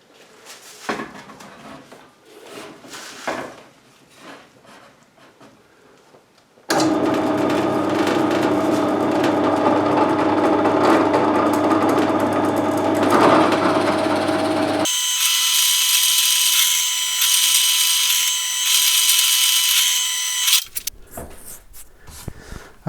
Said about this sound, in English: so I'm bringing it to the drill press